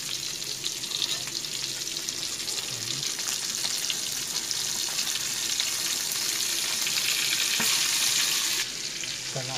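Salted fish frying in a pan with sliced spices, a dense continuous sizzle and crackle held loud and close throughout, with no speech.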